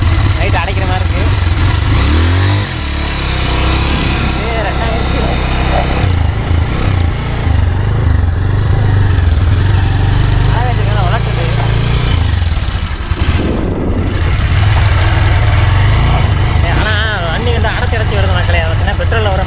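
Petrol motorcycle running on gas instead of petrol, its engine chugging and labouring unevenly as it moves through scrubby ground, with someone talking over it most of the time.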